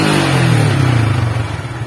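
A motorcycle engine, one that keeps stuttering and suddenly dying, runs again after stalling and revs loudly and steadily at close range with a rough mechanical drone, with no talking.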